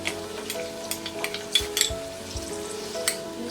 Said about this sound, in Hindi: अब हम इसमें डालेंगे बाकी सारे वेजीज, ये आलू, फ्रेंच बीन्स, कैरेट,